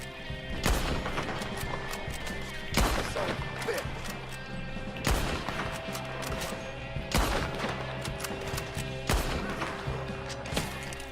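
Gunfire in the western game Red Dead Redemption 2, a series of loud sharp shots spaced a second or two apart, each with a booming echo fading into the ambience between them.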